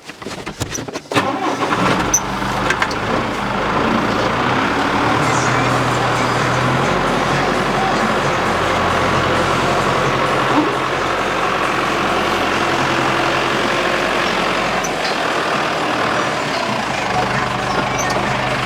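An 8-tonne vehicle driving over a horse fence: its engine rumbles loudly and steadily at close range for the whole stretch after a short rough start, with no distinct crunch standing out.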